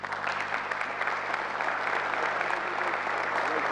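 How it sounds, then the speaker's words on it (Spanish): Warm applause for conference speakers after a talk on Anycast technology, continuous even clapping from a crowd throughout, fairly close with a faint steady hum underneath and no voices. "Despedimos, bueno, a nuestros ponentes de lujo con un caluroso aplauso"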